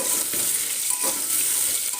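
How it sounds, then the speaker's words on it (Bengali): Pumpkin pieces fry in a pan over a medium flame for a vegetarian dish, giving a steady, close, continuous sizzle and hiss with faint stirring scrapes and no talking. "কুমড়োগুলো দেওয়ার পরে একটু মিডিয়াম ফ্লেম করে নিলাম এটা একটু ভাজা ভাজা করব"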